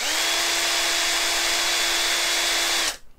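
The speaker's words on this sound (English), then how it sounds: "All we need to do now is simply spin up our motor with our drill" A handheld power drill spins up an electric motor on a workbench for a multimeter frequency test, a loud, steady high-pitched whine held for about three seconds before cutting off abruptly.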